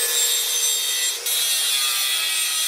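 Sheet metal is cut for a Mazda RX-7 FC repair, a loud, continuous, harsh grinding or sawing rasp with one brief dip before it carries on, heard up close.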